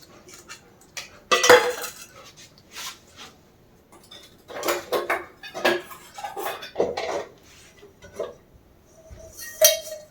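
A bowl being picked up and handled in a home kitchen while preparing pakora batter, with several clinks and knocks of dishes and cutlery, close and distinct against quiet.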